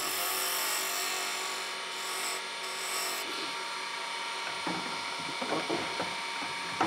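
Cholla cactus pen blank spinning on a wood lathe, turned down toward the bushings: a continuous whirring drone with rough scraping of the tool against the blank, and the tonal hum turns choppier and scratchier in the later seconds.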